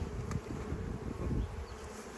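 Honeybees hum at a hive in botanical gardens, a soft, continuous close buzz with a few brief wing passes, no voices.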